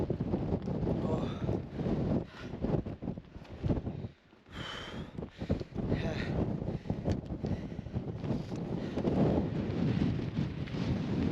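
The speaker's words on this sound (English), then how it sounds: "The wind is just relentless on Skye" Strong wind batters a microphone on an exposed mountain ridge on Skye, a loud continuous roaring buffet with a brief lull midway, with faint breathy vocal sounds heard between gusts.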